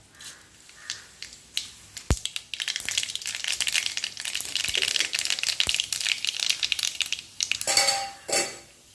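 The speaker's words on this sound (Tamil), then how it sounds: "இன்னும் கொஞ்சம் எண்ணெய் விட்டுக்கலாம் இப்போ கடுகு போட்டுக்கலாம்" Mustard seeds hitting hot oil in a pan with fried ivy gourd for a Chettinad-style dish, crackling and popping densely in a continuous close sizzle, sharpening near the end with a few louder pops.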